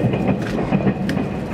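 A 485 series R-set train on its farewell last run pulls out of Niigata station, giving a steady low rumble with rhythmic wheel clatter and rail noise, close and fairly loud, with no voices.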